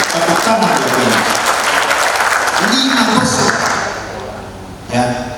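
An audience at an economic outlook talk in Indonesia claps heavily with voices rising over the applause, which fades partway through before a brief renewed burst.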